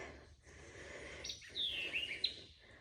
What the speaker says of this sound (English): The birds are wonderful to hear.